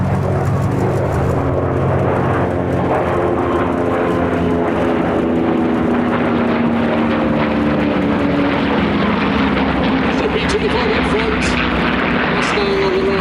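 Mustang, Corsair and P-38 warbirds flying over together at the Sywell Airshow, a loud continuous propeller engine roar that slowly shifts in pitch as they pass, with a commentator talking over it.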